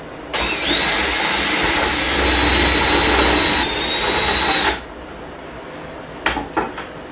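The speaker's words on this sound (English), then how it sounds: "So I have all the first holes drilled in every single one of these." Power drill boring holes in wooden welcome-mat pieces held in a jig, a loud steady motor whine for about four seconds that stops abruptly, followed by a few brief knocks.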